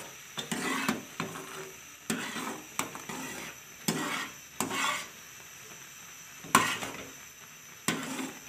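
Milk being stirred in a cooking pot while making homemade khoya, with repeated scraping and clinking of a spoon against the metal pot at irregular intervals, close and moderately loud.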